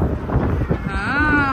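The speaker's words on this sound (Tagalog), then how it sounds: "It is so windy." Strong outdoor wind buffets the microphone in a continuous low rumble, and a voice calls out over it.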